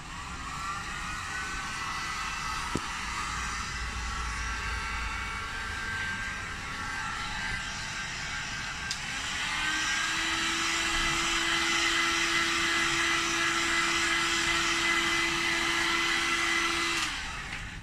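A heat gun or hot-air tool blows steadily on a stainless steel water bottle, a continuous loud whooshing hum with a rising whine as the airflow changes partway through.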